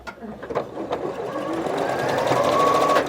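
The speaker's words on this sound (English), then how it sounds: "I'm going to sew that." A sewing machine stitches quilt blocks for a schoolgirl sampler, a steady close mechanical whir building after a few light taps, with voices faintly in the background.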